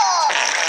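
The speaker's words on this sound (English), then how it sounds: "The Minion did the fart noise." Cartoon Minion fart noise from a Despicable Me 2 trailer: a short, loud, buzzy comic blast with a falling whistle-like tone, lasting under a second.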